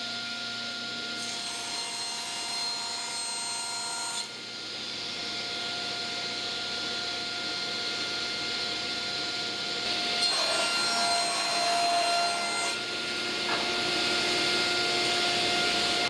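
A power saw cuts one edge of a wooden board square while tapas boards are being made, a steady whining drone running continuously and growing louder partway through, with no talking.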